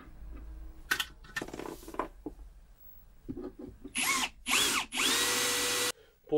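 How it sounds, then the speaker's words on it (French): A power drill runs in several short bursts and longer revving runs while boring a hole for a C14 power inlet socket inside a camper van, with clicks and handling noises between the bursts. "Et maintenant, on va faire le trou pour le C14."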